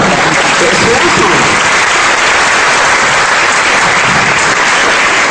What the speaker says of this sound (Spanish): Aplaudan todos, por favor.